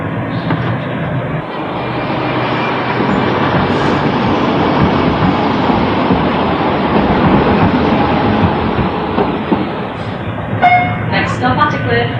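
A Sheffield tram rumbles steadily along under power, a continuous loud mechanical roar with faint clatter, and a brief clanking near the end.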